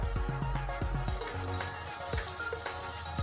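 Butter sizzling in a kadai as a bay leaf goes in, with steady frying crackle and a few soft clinks and stirring knocks at the start, close and continuous, no talking.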